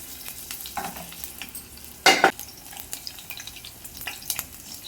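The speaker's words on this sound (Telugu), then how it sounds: "తుల్లుతున్నాయి చూసారా ఆయిల్ గట్టి బాగా హీట్గా ఉన్నాయి" Green chilies hit hot oil in a pan, with a loud burst of sizzle and crackle partway through over low frying noise and faint stirring; no talking.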